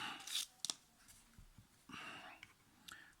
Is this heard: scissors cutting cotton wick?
yes